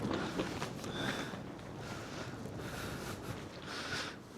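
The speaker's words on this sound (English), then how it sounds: "That was probably the worst gust I've seen since I've been here" Storm wind gusting against a greenhouse, a faint, sustained rush of air with swelling surges and light flapping, distant rather than close.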